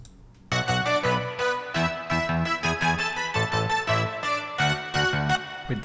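Recreated synth-pop arrangement built from layered lead and bell synths with bass added, entering after a quiet half second and continuing loud with rhythmic chord stabs to the end.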